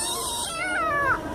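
A person imitates a cat, voicing a single drawn-out meow that rises and then slides downward, heard close and clear for about a second.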